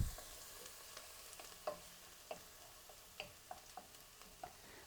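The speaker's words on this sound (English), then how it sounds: "you have to let your onion brown." Onions browning in a pan for Persian khoresht gheymeh give a faint, steady sizzle broken by scattered light clicks and taps of stirring.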